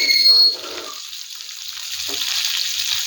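Prawns frying in a pan for Kerala-style prawn fry give a steady, close hiss of sizzling oil that is loudest at the start and then settles to an even crackle.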